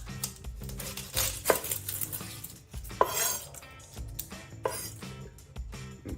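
A knife cuts through a red onion on a board, giving a few firm knocks and scrapes with light clinks of the blade among steady kitchen handling noise, no talking.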